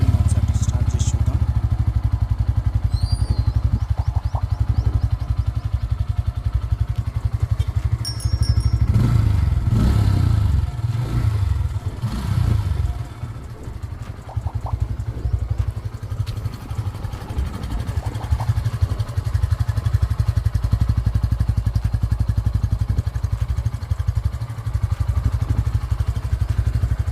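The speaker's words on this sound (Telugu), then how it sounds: "ఇప్పుడు ఇంజన్ ఒకసారి స్టార్ట్ చేసి చూద్దాం." A Bajaj Pulsar N150 motorcycle engine runs steadily up close, a low continuous idle with some clatter and thumps partway through, and no speech over it.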